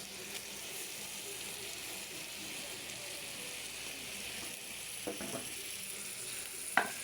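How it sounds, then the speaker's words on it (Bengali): Dried fish and tomatoes sizzle quietly in a pan, a soft, steady hiss with a couple of brief scraping clicks near the end, faint and with no voices over it. "এখন এখানে টমেটো আর শুটকিটা দিয়ে দিই।"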